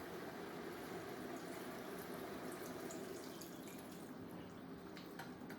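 Eight cups of water pour steadily into a big soup pot full of vegetables and kale, a dense, continuous splashing rush heard up close with a few drips near the end and no talking.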